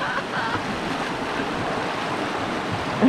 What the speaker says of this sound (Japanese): すぐ坂を降りたらこんな川の綺麗な場所へ。